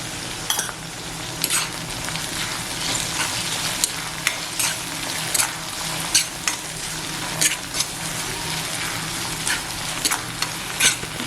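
Onion and tomato fry in a pan for prawn keema, making a loud, steady, close sizzle throughout. Regular scrapes and clicks from stirring cut through it, and no one talks.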